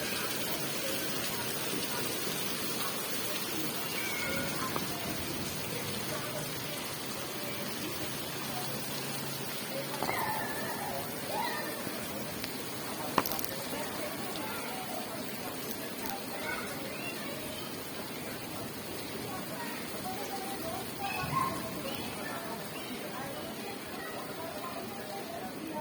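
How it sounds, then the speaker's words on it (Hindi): Steady rain falls in a rainy area with light to moderate intensity, a soft continuous hiss with occasional drips and spatters, fairly faint and without talk. "इस एरिए में बारिश बहुत होती है,"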